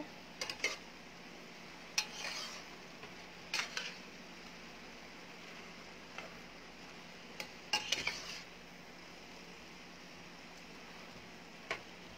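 Garlic shrimp stirred in a pan, sparse clinks and scrapes of a utensil against metal at irregular intervals over a quiet steady background hum, with no voices.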